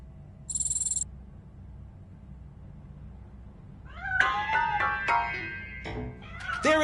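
In the video game RoboCop: Rogue City, a cat hidden inside a piano lets out several clear, close meows after a brief electronic tone and a stretch of low room hum.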